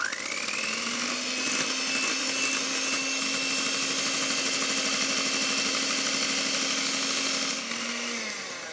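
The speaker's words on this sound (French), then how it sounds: "Je vais laisser tourner mon fouet jusqu'à ce que la meringue retombe à 50 degrés." Electric stand mixer whisk whipping macaron meringue with hot sugar syrup. It makes a continuous loud motor whine with a steady pitch and a slight rise at the start, then slows and fades near the end. No one talks.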